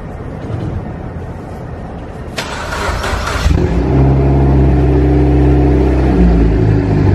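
A Mitsubishi Evo X engine cranks and catches, settling into a loud, steady, deep idle that rumbles on close by.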